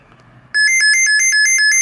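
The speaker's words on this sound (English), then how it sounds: "Alarm." A work site radio's alarm suddenly starts, a loud, close electronic beeping that pulses rapidly and steadily after a quiet moment.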